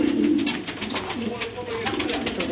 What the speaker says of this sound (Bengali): আমার কবুতরগুলো আজকে গোসল করতেছে